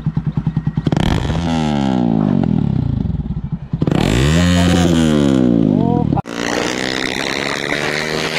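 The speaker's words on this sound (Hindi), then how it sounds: "डीबी किलर वगैरह खोल चुके हैं, अभी एग्जॉस्ट का नोट चेक कर लो।" Motorcycle with its dB killer removed, loud and close: a sharp idle with popping pulses, then two long throttle revs climbing and falling, then a steady high-revving roar to the end.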